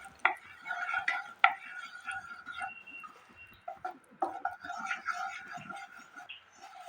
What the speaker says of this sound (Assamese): ল' ফ্লেমত এইদৰে মই বেচন চামুচ 2 মিনিট সময় ভাজি ল'লোঁ।